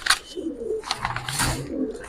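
Giribaz pigeons coo and burble in repeated soft, throaty phrases close up, with no one speaking.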